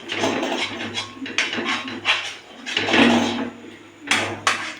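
Semolina (rava) stirred in a pan for upma, scraping and knocking strokes in uneven bursts, close and fairly loud.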